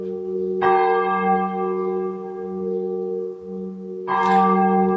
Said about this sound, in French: Voilà, c'est la volée qui se termine.